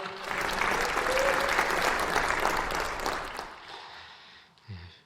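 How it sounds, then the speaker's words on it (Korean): A church congregation applauds to welcome a pastor at a New Year prayer meeting, with dense, steady clapping from a large crowd for about four seconds before it fades out. "다 같이 우리 박수로 환영하겠습니다."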